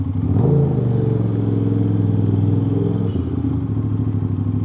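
An Aprilia RS660 twin-cylinder sport motorcycle with a 270-degree firing order and a new aftermarket exhaust rumbles close by, its deep, throbby idle rising in one quick rev blip and then settling back to a steady loud burble.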